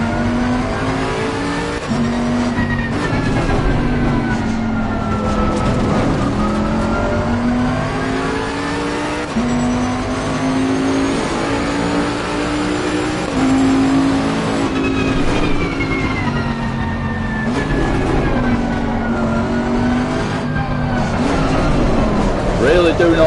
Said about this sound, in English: We're going to let this car pass behind, there's a car behind